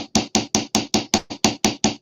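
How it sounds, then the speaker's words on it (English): An old ball peen hammer taps a rivet in ten evenly spaced, sharp metallic strikes, close and loud with brief ringing decay between blows, and no talking. "this is just an old ball peen that I had, again, out of my granddad's workbox."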